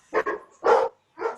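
A dog barks three times in short, loud bursts, the first two close together and the third after a pause, with no talking over it.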